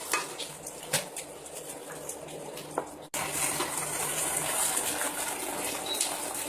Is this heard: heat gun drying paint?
no